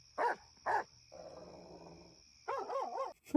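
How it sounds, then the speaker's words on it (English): A dog barks and growls in the background of a Tamil thriller film scene: two sharp barks, a low rumbling growl, then a quick run of barks, with a steady high tone running through. "like the dog barking in the back"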